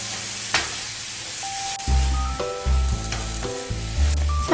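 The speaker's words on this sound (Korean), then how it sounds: "여기에 자른 바나나, 시나몬 가루 3분의 1스푼 정도를 넣고 약 3, 4분 정도 함께 볶아주세요" Sliced bananas with cinnamon sizzle loudly in melted butter in a pan over medium-low heat, a steady close frying hiss broken by repeated low scraping thumps as the pieces are stirred, with no talking.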